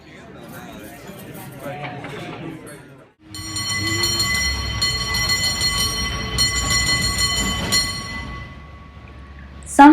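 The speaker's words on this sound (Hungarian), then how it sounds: "a csilingelő villamosok" A San Francisco cable tram sounds its bell-like tonal clang loudly after a few seconds of muffled street noise, held ringing over the rumble of the car.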